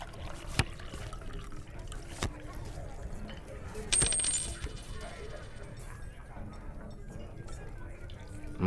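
Coins drop and clink in a fantasy ASMR roleplay, with a few scattered metallic taps and one brighter, ringing jingle, all soft and close in an otherwise quiet room.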